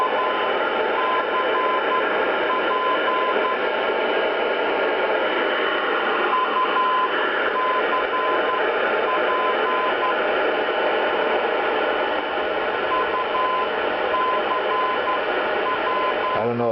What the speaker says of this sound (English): I don't know if the camera will pick up the 400 hertz tone